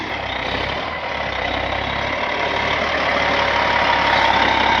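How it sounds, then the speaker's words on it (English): A show truck pulling a trailer maneuvers through a farm field, with a heavy diesel engine droning and rumbling steadily, slowly growing louder, close by and without speech. "try to get all that truck and trailer into there"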